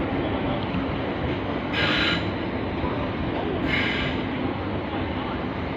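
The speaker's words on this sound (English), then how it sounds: "And those rails are screeching," Wheels of a train squealing on the rails at London Bridge, two bright screeches rising over a continuous low rolling rumble, close and fairly loud.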